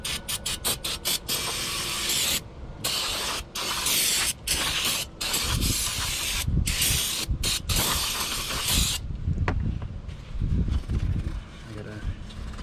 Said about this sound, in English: spray this down here with some brake clean